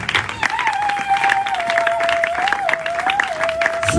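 A church congregation claps and cheers together in a steady wash of applause, with a sustained sung or hummed tone running underneath.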